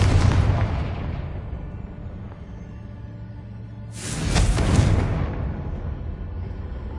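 Loud magical explosions from the Confringo fire spell in Hogwarts Legacy, with a heavy blast at the start and a second, brighter burst midway. Each one is followed by a rumbling decay.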